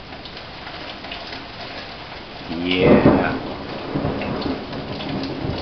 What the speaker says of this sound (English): it's pouring out